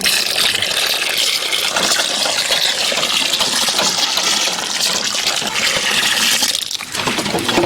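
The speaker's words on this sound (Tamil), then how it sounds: "பாலை ஊத்திக்கலாம்." Milk pours steadily into ice apple (nungu, palm fruit) payasam cooking in a village kitchen, a loud, close, continuous liquid gush that dips briefly near the end, with no speech.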